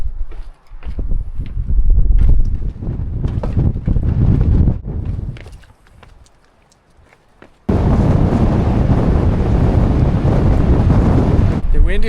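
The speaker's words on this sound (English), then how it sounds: "Wind is back in full force." Strong wind roars across a volcanic island coast, buffeting the microphone in heavy gusts that ease briefly before returning as a loud, continuous rush.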